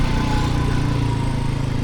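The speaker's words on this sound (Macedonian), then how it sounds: "Аз го чекам овде некое време, уште ни го нема, че слушам мотор." A motorcycle engine runs close by with a loud, continuous droning hum and a steady low throb, with no speech over it.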